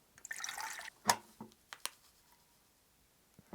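Water poured into isotonic drink powder from a French combat ration: a short splashy pour, then a few distinct drips and small clinks fading into quiet.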